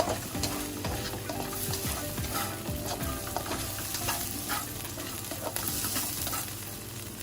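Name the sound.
spring onions frying in oil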